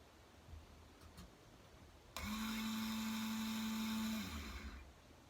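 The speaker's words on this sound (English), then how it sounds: "Here I am testing this stupid fuel pump." A car fuel pump from an S10 Blazer being bench tested kicks on abruptly, holding a steady, loud electric whine and buzz for about two seconds before winding down, with quiet room noise before and after.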